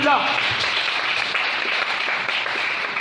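Church congregation applauding together: a sustained wash of clapping from many hands, loud and even, with voices mixed in.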